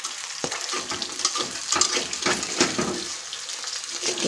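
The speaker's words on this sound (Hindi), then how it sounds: "फ्राई कर दे रही हूँ, कढ़ाई बहुत हिल रहा है" Arunachal chillies fry in a kadhai that wobbles on the stove, giving a steady crackling sizzle broken by sharp clanks and knocks of the pan and the stirring spoon.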